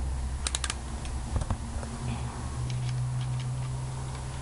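A piston ring compressor is ratcheted tight, giving a short run of sharp, fairly close clicks over a quiet workshop hum, with a few more scattered clicks after.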